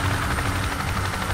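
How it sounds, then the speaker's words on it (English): A helicopter in the military shooter game Squad, its rotor a loud continuous thudding drone close by, with no talk over it. "We're getting in the chopper."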